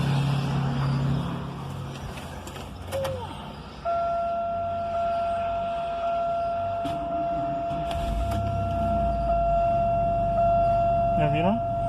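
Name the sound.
Pontiac Grand Am car engine starting and idling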